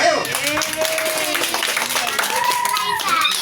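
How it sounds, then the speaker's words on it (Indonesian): Children and adults clap together at a Maulid Nabi celebration at an Islamic boarding school, a steady, busy patter of hands with children's voices calling out over the clapping. "Tepuk tangan dulu, ayo."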